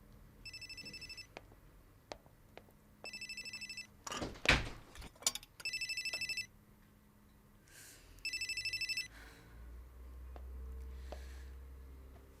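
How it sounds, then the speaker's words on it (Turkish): A telephone rings in a home in four separate bursts of trilling bells with pauses between them, and a few dull thumps fall in the gaps. "telefonun çalıyor"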